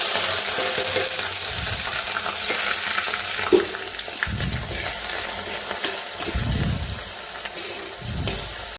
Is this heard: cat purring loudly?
no